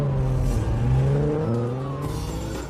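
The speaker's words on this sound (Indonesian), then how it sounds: "Dom setuju dan pergi menggunakan mobil Supra milik Brian." A Toyota Supra engine revs as the car pulls away, a loud, steady motor drone with a rising and falling pitch that fades slightly toward the end.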